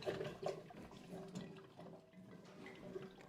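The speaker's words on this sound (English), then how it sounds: "Might be able to hear that gurgling there." Water from a one-gallon tank gurgles and trickles through cold brew coffee drippers, a soft, continuous bubbling with small irregular drips, faint and close, with no talking.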